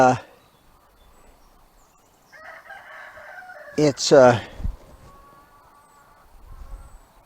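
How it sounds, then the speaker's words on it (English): Chickens in a backyard chicken coop, a rooster crowing loudly and close after a few clucks, with quiet surroundings between calls. "go feed my chickens, and then I'll come back and bring it out and show you the chickens"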